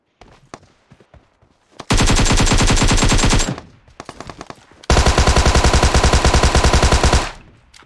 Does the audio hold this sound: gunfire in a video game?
yes